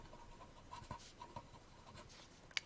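Faint, close strokes and taps of writing on a board during a math lesson, a few short scratchy marks and a sharper tap near the end.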